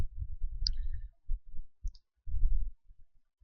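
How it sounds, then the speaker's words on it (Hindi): A few sharp clicks from a computer mouse selecting an admission icon on a Rajasthan college admissions web page, isolated and close, over a low background hum with no talk. "इस होम पेज पर दाईं ओर ऊपर की तरफ जो एडमिशन आइकन है उस पर आपको क्लिक करना है।"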